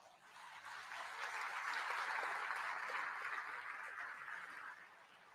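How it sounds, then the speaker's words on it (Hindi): Loud, sustained applause from a large audience at the INS Vikrant commissioning ceremony in honour of Cochin Shipyard workers, designers and engineers. The dense clapping swells quickly, holds steady for several seconds, then fades. "आप सभी के लिए एक बार जोरदार तालियां हो जाएं।"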